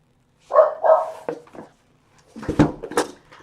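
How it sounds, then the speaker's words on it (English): A dog barks in two bursts: a pair of loud barks, a pause, then a rougher run of several barks, close by. "he's barking at nothing"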